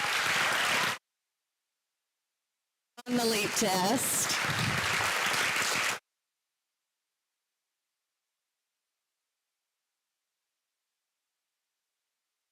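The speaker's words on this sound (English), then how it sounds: "Let's give another round of applause for these awesome students" Audience applause for students at a regular school board session: a short burst of clapping, a pause, then a longer round that a voice speaks over as it fades out.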